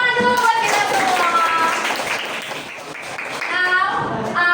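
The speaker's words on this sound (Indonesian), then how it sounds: "tepuk tangan dulu buat kita semua" An eighth-grade junior high classroom breaks into a burst of clapping that fades and then swells again, with children's voices calling out over the applause.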